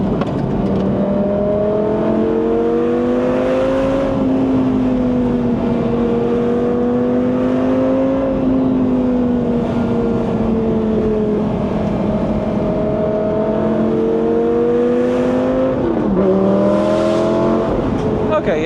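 A Lamborghini Gallardo Spider supercar drives along with its engine droning loudly and continuously, the pitch rising and falling with throttle and a brief dip near the end as it shifts.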